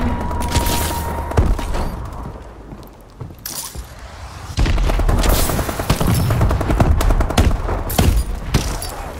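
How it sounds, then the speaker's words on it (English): Missile strikes and gunfire in the video game Call of Duty: Advanced Warfare, loud and dense: overlapping bursts of fire and heavy booms, with a quieter lull before the barrage swells again. "Friendly missile strikes inbound."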